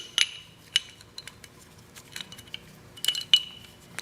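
Metal barrel of an XR45 PullPup9 pistol being inserted during reassembly, a few sharp metallic clinks and taps with small scraping sounds between, close and quiet.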